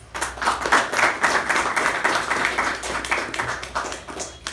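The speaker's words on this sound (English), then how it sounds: "let us have a huge round of applause for all the speakers" A round of applause at a Toastmasters club meeting, many hands clapping steadily together for several seconds, close and fairly loud with no voices over it.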